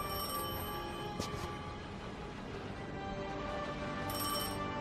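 An electronic telephone trills repeatedly in Destiny 2, its bright ring pulsing over a dense, steady hum of game ambience with no voices.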